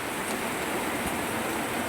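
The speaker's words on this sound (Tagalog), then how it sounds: "sobrang lakas po ng ulan mga idol ano" Heavy rain pours down in a continuous, broad hiss, steady and fairly loud, with no voices.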